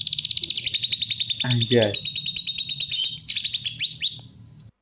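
A lovebird sings a long canary-style song of rapid, high trilling chirps and whistled phrases, loud and continuous near the microphone, while someone speaks briefly over it.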